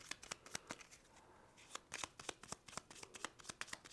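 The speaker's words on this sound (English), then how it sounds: "And then I'm going to shuffle up the treasure cards." Treasure cards for the board game CoraQuest are shuffled near the microphone: a run of crisp riffle snaps and flutters, then a short pause and another rapid burst of sharp card clicks on a quiet tabletop.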